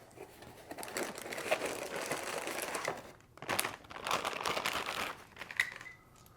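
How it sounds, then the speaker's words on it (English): Static-shielding plastic bag holding a Schaeffler-Vitesco NOx sensor being opened, with crinkly rustling and tearing bursts across several seconds, a short pause, then more crackling handling nearby. "It is important to be careful when opening this sealed plastic bag"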